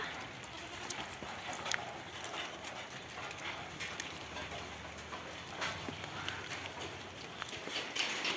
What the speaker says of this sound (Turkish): Ay bayağı yağıyor ya.